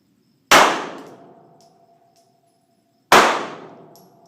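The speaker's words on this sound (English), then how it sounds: "I'm going to shoot the first target, lower right corner." A single sharp pistol shot at a shooting target, then a long decaying ring, and a second identical loud report about two and a half seconds later, each standing alone with no talk.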